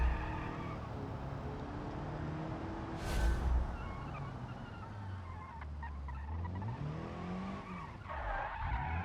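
Simulated car drifting with tires skidding in the BeamNG.drive driving game, a continuous engine drone with wavering, sliding tire squeal through the corner, loud and close, no talk over it.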